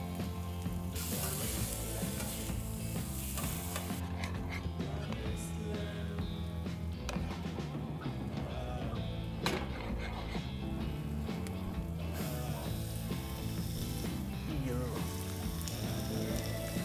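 Butter sizzles and fries steadily on a hot griddle while cheesesteak rolls heat, a dense continuous crackle with a few faint clinks and stirring noises over a full musical backdrop.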